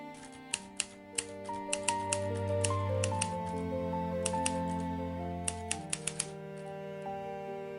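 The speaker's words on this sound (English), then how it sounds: "I'll use the typewriter." A typewriter clacks in irregular bursts of sharp keystrokes, close and distinct, over soft sustained background music with no voices.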